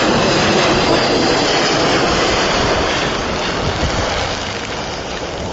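A Boeing 737 lands in strong winds. A loud, continuous broadband roar of wind and engine noise fills the whole stretch, slowly easing slightly toward the end, with no voices.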